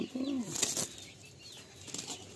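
Madrasi pigeons flap their wings as they are released from a loft, giving a few quick, close bursts of fluttering, with one faint coo-like call and some background noise.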